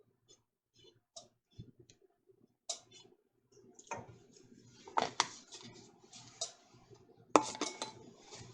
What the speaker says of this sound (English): we're just going to stir that in until it's melted and incorporated into our wonderful Mexican mix here